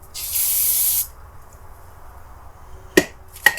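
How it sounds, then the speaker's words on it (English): Brake cleaner sprayed from an aerosol can onto a hot LS2 engine part in a workshop: one loud, steady hiss lasting about a second. Two sharp knocks follow, with no talking. "So, I think we cool this down. Cool it down with some brake fluid here. Brake cleaner."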